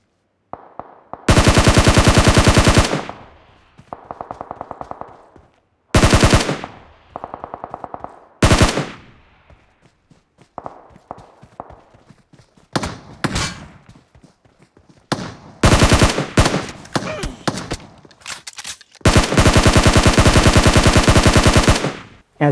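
Gunfire in PUBG played on an Oppo Find X2 Pro phone through its stereo speakers: loud sustained automatic bursts alternating with single shots and short silent gaps.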